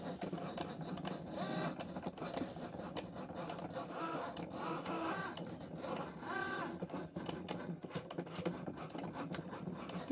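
A Cricut Joy cutting machine works through thick cardstock, its steady whirring motor and scratchy blade passes running continuously for several seconds with no talking.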